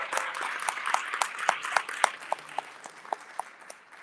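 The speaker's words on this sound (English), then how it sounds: "let's give them a round of applause." Meeting attendees applaud the leadership at a San Diego Pride leadership meeting, a thin, moderately distant patter of scattered claps with a few sharp individual slaps standing out, tapering off toward the end.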